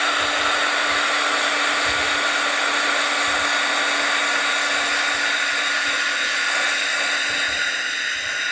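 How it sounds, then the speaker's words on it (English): A heat tool blasts hot air over a craft project, a steady loud whooshing roar that holds unbroken for the whole stretch with no talk over it. "I'm gonna hit this with my heat tool again, and then I'll go back over in the white."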